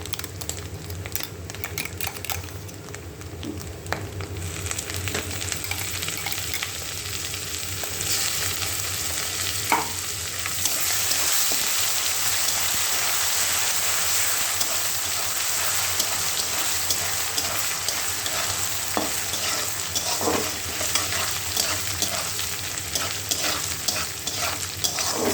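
Dried Bombay duck (loitta shutki) with turmeric, garlic, ginger, onion and cumin paste sizzles steadily in a pan, with a spatula scraping and stirring through it throughout, close and loud with no voices.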